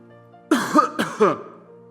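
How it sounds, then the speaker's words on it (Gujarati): An elderly man gives a few harsh, rasping coughs in quick succession, close and loud, then quiet. "આ ખાંસી તો જીવ લઈને રહેશે"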